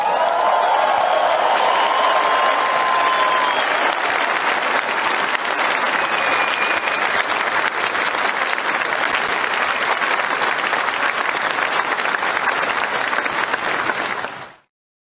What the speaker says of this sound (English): these people are standing up and giving him an ovation